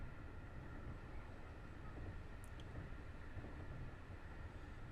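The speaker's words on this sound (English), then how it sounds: "Alright, come on train, pick up speed." A train engine in the Train Drive ATS 2 video game runs with a faint, low, continuous rumble and mechanical hum, holding steady for the whole stretch with no speech.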